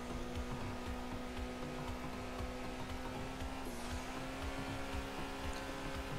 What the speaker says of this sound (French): J'ai pas lâché l'accélérateur, il perd en régime.